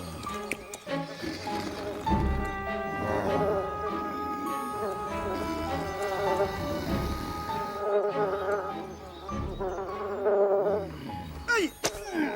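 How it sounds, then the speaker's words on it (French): A cartoon wasp buzzes in a steady, insistent drone, mixed under a dense musical score with voices and other effects throughout. "Je suis sûr que c'est une guêpe tartare."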